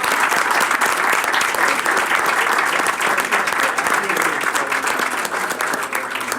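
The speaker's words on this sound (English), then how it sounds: "Can we get another round of applause" Loud, continuous applause from a school board meeting audience, dense clapping holding steady throughout, with faint crowd murmur mixed in.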